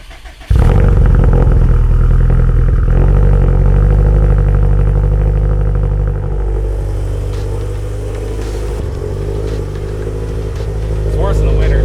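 A tuned Subaru STI making over 600 wheel horsepower fires up close by and settles into a loud, deep, rough idle with throttle blips and revving, while voices talk over it.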